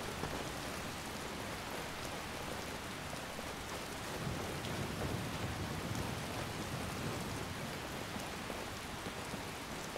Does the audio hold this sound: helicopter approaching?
no